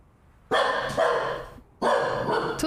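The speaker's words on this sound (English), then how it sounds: "Sorry about my dog." A dog barks loudly indoors in two sustained bursts, each a harsh, close, loud volley with a short pause between, with no talk over it.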